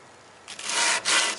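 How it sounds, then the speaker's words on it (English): Cello wood is sanded by hand with 150-grit fine paper: after a quiet start, two loud, close rasping strokes follow, separated by a brief pause. "sanding operation on that. This is still that 150 grit fine paper."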